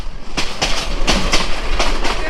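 The Burimari Express rolls along the Ishwardi bypass curve, loud and close, with rapid rhythmic clickety-clack of wheels over rail joints under a constant rumble.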